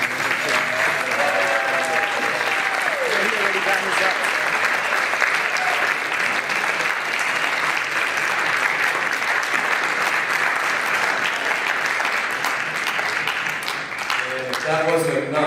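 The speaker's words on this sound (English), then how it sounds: "let's give a round of applause for the state champs" Sustained, steady applause from a banquet crowd for the state champion team at a winter sports banquet, loud and even throughout, with a few faint voices and a brief whistle-like tone early on.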